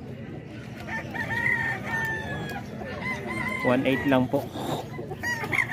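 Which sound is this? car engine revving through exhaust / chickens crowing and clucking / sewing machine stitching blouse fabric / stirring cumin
chickens crowing and clucking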